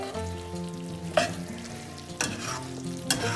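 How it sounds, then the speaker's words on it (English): Pointed gourd being stirred into yogurt gravy in a frying pan, with a steady low sizzle and three sharp scraping stirs of the spoon, close and clear with no talk. "So it is time to add the pointed gourd. Now mix it well."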